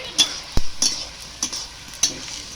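Food frying in a pan in a village kitchen, with a soft sizzle under four or five sharp, close scrapes and clacks of stirring spaced through the stretch, no voices.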